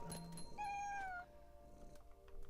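A cat meows in What Remains of Edith Finch, one clear, drawn-out meow with a falling pitch, close and distinct against soft ambient game sound.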